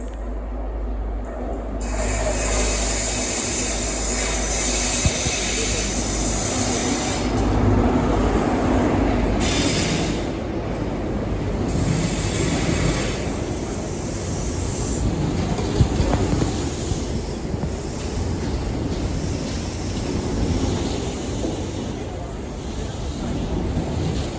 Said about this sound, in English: We'll be riding aboard the cross-country HST from Cheltenham Spa to Bristol Templemead.